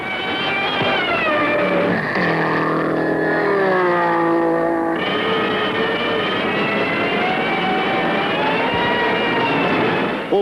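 1930s Mercedes and Alfa Romeo Grand Prix race cars, built to a 750-kilogram weight formula, racing with loud, continuous high-pitched engine whine that rises and falls as the cars pass, with no talking.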